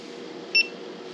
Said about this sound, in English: you can hear the little alarm